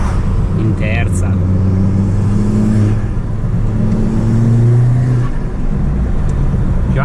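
An Audi S3 8P tuned to 300 hp with a downpipe pulls hard in third gear, its engine note droning steadily from inside the cabin with a rising whir, while a voice talks over it.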